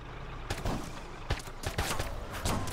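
Bursts of gunfire crack out in Arma 3 during an Altis Life clash, several loud volleys of rapid shots spread unevenly over a few seconds, close and sharp.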